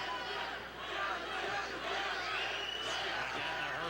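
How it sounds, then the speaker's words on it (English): Crowd at a boxing match at the Hershey Center, a steady murmuring roar of spectators with a commentator talking over it. "the Hershey Center crowd looking to rally these two fighters on here"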